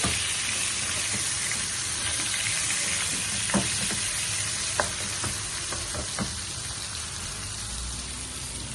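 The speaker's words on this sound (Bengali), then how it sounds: "মূলাগুলা এক পিঠ ভাজা হয়ে গেছে" Radish pieces fry in a pan with a continuous crackling sizzle, broken by a handful of sharp clinks and scrapes from a spatula turning them partway through; no one speaks.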